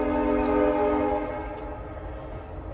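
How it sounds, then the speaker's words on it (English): A train near an old canal lock in Cuyahoga Valley National Park, Ohio, sounds a long, loud, steady multi-tone horn over its rolling rumble, the blast easing slightly as it goes on. "And what you're hearing is a train"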